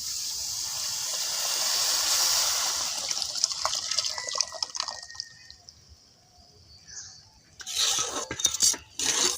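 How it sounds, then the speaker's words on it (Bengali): Milk poured into a pan of fried cauliflower for kheer, a steady liquid pouring wash for several seconds that tapers off, followed by a few sharp clinks of utensils against the pan. "দুধ দিয়ে দিলাম।"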